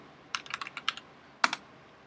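A short burst of typing a Bash terminal command on a computer keyboard: a quick run of clicky keystrokes, a brief pause, then one final sharp key press, close and clear.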